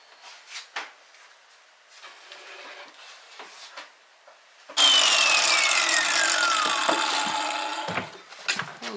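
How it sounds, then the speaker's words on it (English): Bathroom tiles cut with a power tool: light handling clatter, then a sudden loud whirring cut that holds for about three seconds, its pitch sliding down as it winds off, followed by a few knocks. "we're just going to go ahead and cut these bathroom tiles and get them installed"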